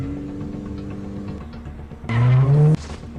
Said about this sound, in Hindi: कार की लो, कार के अंदर बैठो। Start, reverse gear